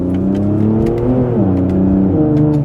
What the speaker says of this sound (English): The exhaust sound, I have a feeling this one might have had some kind of exhaust modification to it, because it's quite loud